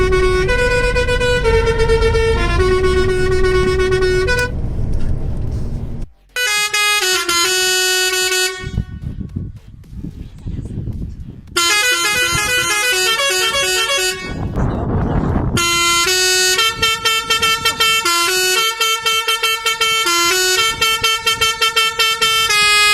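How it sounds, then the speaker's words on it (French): Truck air horns blast a melody loudly and up close, in bright, tonal phrases of repeated short notes, separated by brief pauses and a couple of breaks. "Faire voir l'installation du klaxon sur le camion."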